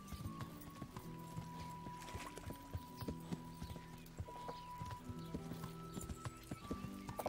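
Horse hooves clip-clop in a steady trotting rhythm as the horse Pebbles is ridden in the video game Kingdom Come: Deliverance, with an occasional whinny, fairly quiet and unbroken throughout.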